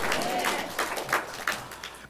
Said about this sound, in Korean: 충분하면 하나님께 영광의 박수를 돌려드리시기 바랍니다.